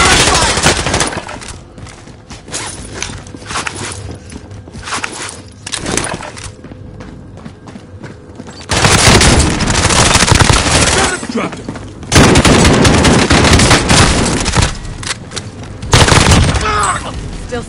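Heavy gunfire and machine-gun bursts, loud and close, in long dense barrages separated by quieter stretches of scattered shots and crackle, with a voice briefly speaking.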